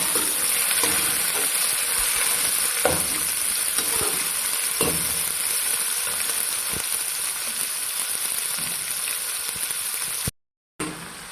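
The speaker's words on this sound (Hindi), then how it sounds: "चिकन को अच्छी तरह फ्राई कर लें।" Chicken fries with garlic in a pan for fried rice, giving a dense, continuous sizzle with scattered soft stirring knocks; the sound cuts out briefly near the end.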